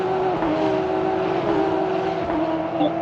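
GT3 race cars in a Winter GT3 Championship round bunch up into turn one, their engines merging into a loud, sustained drone with a steady high whine that dips and rises slightly as they brake and accelerate, with no voices.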